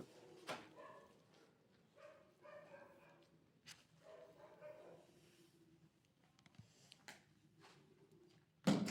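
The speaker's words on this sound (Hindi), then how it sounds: "ये कुत्ते बोलने हो गए शुरू," Dogs bark and yip in the distance at night near an old house, with scattered short barks and whimpers, fairly faint, with a few louder knocks and bumps nearby.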